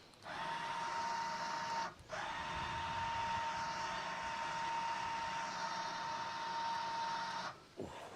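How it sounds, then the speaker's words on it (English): A winch hauls a roof-top tinny boat up onto its roof rack, giving a steady, close electric motor whine with a constant tone that runs for about a second and a half, breaks briefly, then runs again for several seconds before stopping. "I'm just going to winch it in a little bit"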